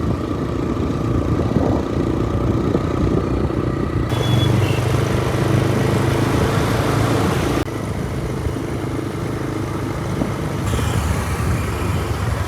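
Rented motorbike engine on the road to Kathmandu airport during a lockdown: a continuous mid-pitched motor drone with a low rumble that holds steady for the whole ride, with slight shifts in background noise along the way.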